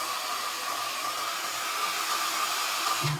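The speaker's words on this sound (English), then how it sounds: "So I will dry this." A hair dryer blows steadily and loudly over a wet watercolor painting of a village scene, a continuous close whoosh with a faint whine that holds for the whole stretch.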